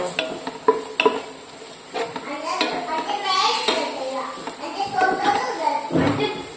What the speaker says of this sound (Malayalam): ക്യാരറ്റ് ചേർത്തെടുത്ത് നല്ലതുപോലെ ഇളക്കി കൊടുക്കാം